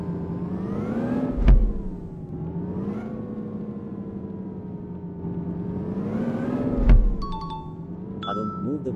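Engine of an Indian bus in a driving simulator game, a steady mid-pitched drone that rises and falls as it revs, with two brief louder bumps and some faint electronic tones near the end.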